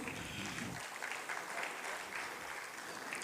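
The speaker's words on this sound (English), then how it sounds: "A huge round of applause, please." Sustained audience applause at a cardiology conference, steady dense clapping filling the room throughout, with a lower rumble fading out early on.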